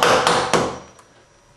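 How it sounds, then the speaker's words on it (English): A hammer strikes a screwdriver held under a door hinge pin to knock the pin loose, giving several sharp, close metallic taps with ringing decays, the last one fainter and spaced apart. "line the screwdriver up at the bottom of the hinge pin. Put it on there and go ahead and hammer it."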